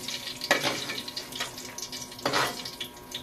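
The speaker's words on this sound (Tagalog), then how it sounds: "ibigyan ko na igisa yung sibuyas saka bawang" Chopped onion and garlic sauté in a hot pan, sizzling in two strong bursts with lighter stirring and crackling between them.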